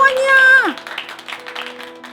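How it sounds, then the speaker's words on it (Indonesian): A loud, sustained voice cuts off and gives way to a group of children clapping their hands at a kids' church service. The claps form a scattered run of quieter bursts. "Ayo adik-adik tepuk tangan semuanya."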